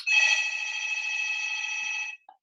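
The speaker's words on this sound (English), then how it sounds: "That's the phone." Telephone bell ringing steadily for about two seconds, close and loud, heard alone during an early-morning live broadcast before stopping abruptly.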